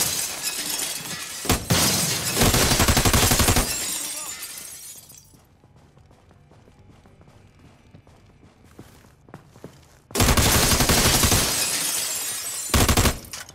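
Grenade blast and gunfire in a multiplayer video game: loud broadband bursts at the start, a quieter stretch with scattered clicks, then more heavy blasts near the end.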